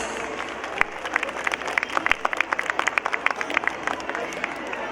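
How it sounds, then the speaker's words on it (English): Audience applause for toddlers at a school annual function, a steady crowd of hands clapping at moderate volume with scattered sharper claps throughout. "give a huge round of applause for our teeny toddlers"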